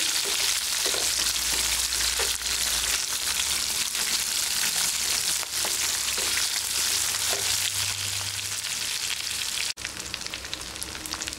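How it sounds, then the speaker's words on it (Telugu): Chopped onions with green chillies sizzle steadily in hot oil in a pan for an ivy gourd curry, a dense continuous frying hiss with occasional light stirring clicks and a brief break near the end, no voices. "ఇలా వేసి కాస్త ఉల్లిపాయలు వేగేంత వరకు ఇలా వేయించుకోవాలి."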